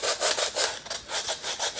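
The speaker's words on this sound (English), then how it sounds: "so I've been sanding them down here." Rhythmic back-and-forth rasping of sandpaper on wood, about eight even strokes in quick succession, close and clear.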